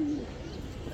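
A large young pigeon chirps in short, soft peeping calls, close and fairly steady throughout, set against a low room background with no talking.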